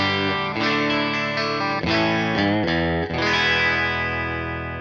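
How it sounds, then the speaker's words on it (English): Electric guitar played through a Fender Blues Jr amp on a clean tone with the bridge pickup, ringing out sustained chords in a steady sequence, loud and close with no talk. "Clean tone on the bridge sounds like this."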